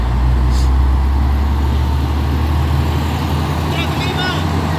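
A Fuso Super Bed truck drives past with a loud, low engine rumble that holds steady and then fades slightly, on a hill road, with a voice talking over it.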